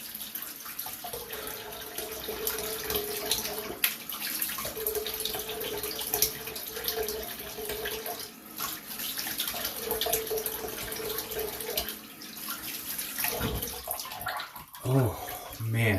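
A Rex Ambassador razor head is rinsed under a running tap, a steady splashing stream that shifts as the head moves through the water, with a brief clatter near the end.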